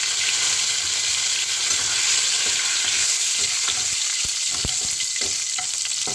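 Bay leaf and dried red chilies fry in hot oil for a vegetarian ghugni, a loud continuous sizzle with a few scraping and clicking sounds of stirring toward the end.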